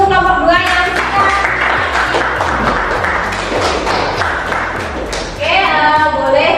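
Classroom applause for a student group's presentation, a steady dense patter of many hands clapping close by for several seconds with voices over it.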